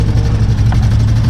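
A Honda trail bike's engine runs at a steady low idle, close and loud, with a constant heavy rumble and no talking over it.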